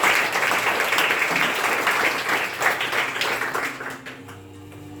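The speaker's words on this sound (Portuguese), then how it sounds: "Pode aplaudir, gente." Wedding guests at a ceremony break into warm applause, many hands clapping steadily before the sound fades out, leaving a quiet room tone at the end.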